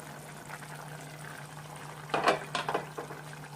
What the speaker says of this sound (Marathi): कोलवीचं कालवण शिजायला पंचवीस मिनिटं लागतील दहा मिनटं झाली आहेत